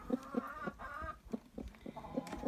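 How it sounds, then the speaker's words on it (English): Araucana hens cluck in a mobile hen house, a run of short, soft, close clucks in uneven rhythm over quiet barnyard background, with no talk. "one of our little Arakana hens, the ones that lay the blue eggs"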